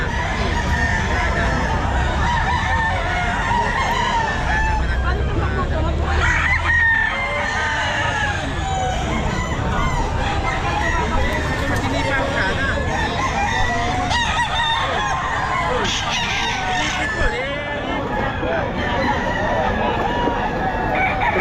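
Several roosters crow repeatedly at a pet market over a busy din of clucking fowl, loud and continuous with overlapping calls throughout.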